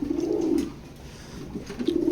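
Fancy male pigeons coo nearby in a loft in low, throaty rolling calls, one at the start and another near the end.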